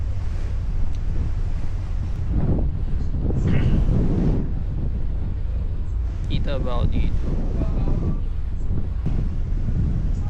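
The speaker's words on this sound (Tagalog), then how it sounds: "Hangin dito." Strong wind gusts buffet the microphone on the open deck of a ship at sea near Masbate, Philippines, with a rushing, blustery roar; a person speaks briefly in Filipino partway through.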